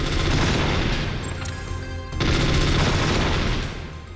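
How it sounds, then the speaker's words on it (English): FA-MAS assault rifle firing rapidly in a Metal Gear Solid VR mission, two dense loud bursts of close gunfire separated by a brief pause. "The Falmos is the assault rifle for the game, used for rapid fire against targets like this."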